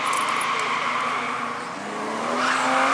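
Drift car sliding through a corner at a drifting competition in Bivaröd, its engine roaring steadily with rising pitch and tire squeal, loud and close throughout with no talk.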